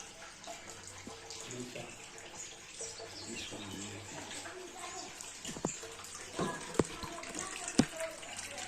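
Water runs continuously from a temple spring beside a Ganesha shrine at Murugamala, Chintamani, a faint steady flow with distant voices and a few soft knocks in the background.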